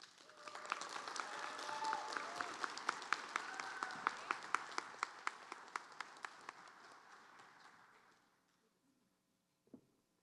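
An audience at a practical nursing pinning ceremony applauds warmly to welcome a speaker, a steady wash of clapping with distinct close claps that tapers off and stops after about eight seconds, followed by a single soft thump.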